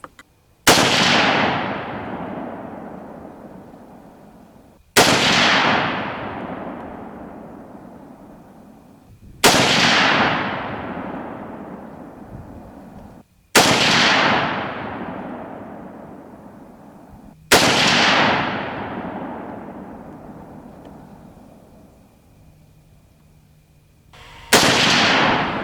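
A .30-06 rifle fires Hornady SST and Speer TNT loads. Six loud, sharp shots ring out several seconds apart, each with a long echoing decay, heard outdoors and close with no talk.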